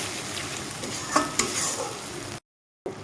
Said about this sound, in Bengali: টমাটিটাকে ধুয়ে আমি একটু জল দিয়ে দেবো একটু ভালোভাবে নাড়িয়ে চেড়ে নেবো